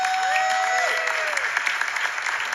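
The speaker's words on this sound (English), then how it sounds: "Can we give her another round of applause?" Audience applause for Governor Hochul at a Sammy's Law event, a steady broadband clapping wash over about two and a half seconds, with a whistle-like tone gliding through the first second.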